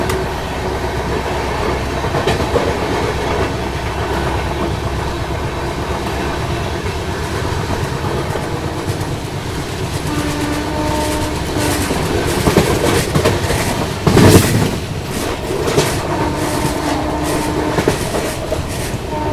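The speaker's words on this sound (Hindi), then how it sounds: "110 की ही रफ्तार से भाग रही है अपनी लखनऊ एसी सुपरफास्ट एक्सप्रेस" The 12430 New Delhi–Lucknow AC Superfast Express runs at about 110 km/h past Pilkhuwa station, heard from on board as a loud, continuous roar with rhythmic clickety-clack of wheels over rail joints and a brief louder burst midway.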